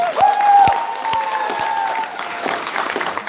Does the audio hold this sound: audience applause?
yes